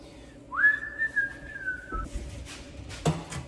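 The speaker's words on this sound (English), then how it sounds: "during this time I'm going to be whistling so that you can have something to listen to" A person whistles a long, slightly falling note up close, followed by soft clattering and a sharp knock.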